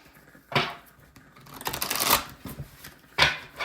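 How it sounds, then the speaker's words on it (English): Tarot cards shuffled by hand during a card reading: a sharp riffling burst, a longer rustling shuffle building to a peak, then another quick riffle, all close and clear with no voice. "All right, I'll shuffle."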